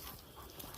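A dog pants rapidly and close by on a forest nature walk, with quick rhythmic breaths over faint outdoor background and no talking.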